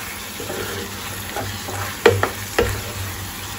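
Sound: spices (coriander, cumin, Kashmiri chili, turmeric) frying while stirred

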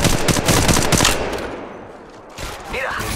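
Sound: gunfire in video game Apex Legends Mobile

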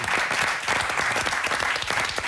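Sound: studio audience applause

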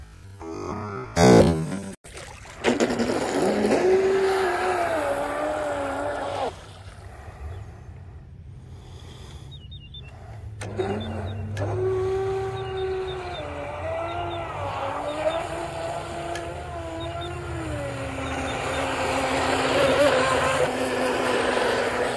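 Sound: RC boat Blackjack 42 running with high pitch propeller

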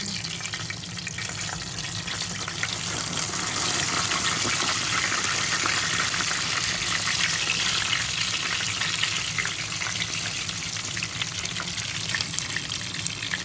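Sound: pastries frying in hot oil

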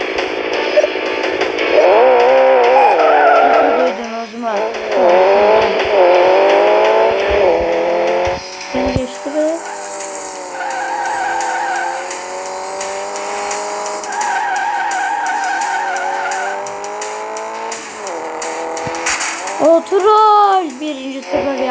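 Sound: car racing with skidding tires in a video game

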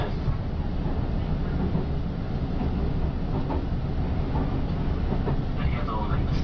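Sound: JR Shikoku 8000 series train running sound, 8300 trailer car

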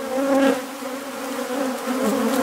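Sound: honeybees buzzing at an open hive

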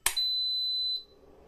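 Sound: induction stove beep when switched on

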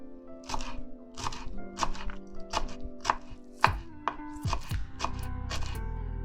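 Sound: finely chopping dill and parsley with a knife

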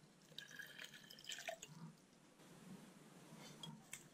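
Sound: water being poured into a stone vase mould

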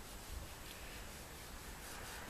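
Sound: dry rag wiping down polished chrome

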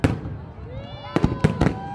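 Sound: colorful fireworks at a city festival

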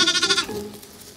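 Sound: orphan baby lamb bleating

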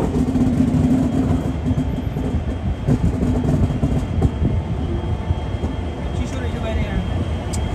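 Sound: Dibrugarh Rajdhani train arriving at Moradabad Junction

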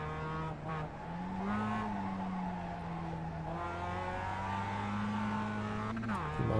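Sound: race car driving on worn tyres in the video game iRacing

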